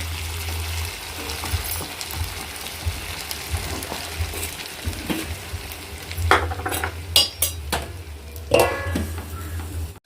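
Pieces of food fry in a pan on a home stove with a steady low sizzle, joined later by sharp clinks and scrapes of metal utensils against cookware.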